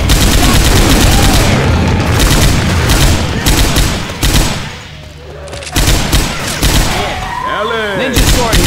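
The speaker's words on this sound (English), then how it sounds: "Chain gun." Rapid, sustained automatic fire from a chain gun in the Left 4 Dead 2 survival mode, loud and dense bursts running nearly the whole time with a short lull midway, plus scattered game noise.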